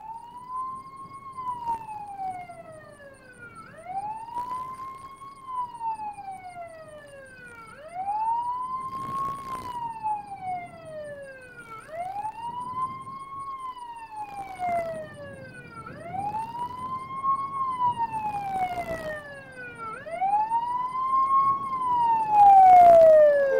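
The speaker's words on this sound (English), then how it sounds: "hears the siren" Ambulance siren wailing in a steady repeating rise-and-fall cycle about every four seconds, moderately loud and growing nearer toward the end, with faint road noise underneath.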